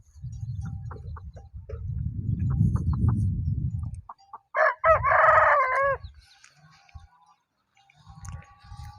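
A Burmese fighting rooster crows once in the early evening, loud and close, with a wavering drawn-out call after a stretch of low rumbling noise and scattered clucks.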